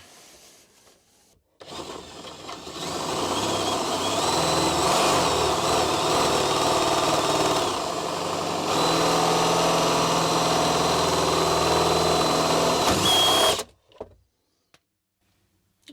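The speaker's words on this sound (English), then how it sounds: "So we're going to drill through this, put that in." A power drill with a 3/4-inch bit runs steadily under load for about twelve seconds, a loud continuous grinding whine that cuts off abruptly at the end.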